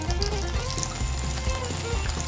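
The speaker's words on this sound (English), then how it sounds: "Water flows from the tank to the pipe through small holes" Water pours and trickles through a Lego Technic pump pipe from a tank via small holes in a toy farm watering rig, a steady close liquid stream with a low hum underneath.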